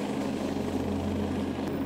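An Agusta A109 helicopter gives off a steady, unbroken engine and rotor drone that holds at an even loudness for the full two seconds, with no voices.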